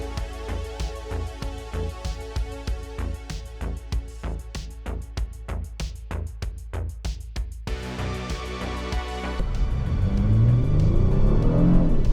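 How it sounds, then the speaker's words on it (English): A 2025 Honda Pilot Black Edition SUV accelerates with a steady engine drone that climbs through a rhythmic pulsing and then swells into a broader, louder rumble near the end, with no talking. "Acceleration is very linear, it's very smooth."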